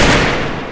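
A rapid burst of gunfire in the battle royale game Free Fire, loud and close, firing in a quick automatic volley that fades over under a second.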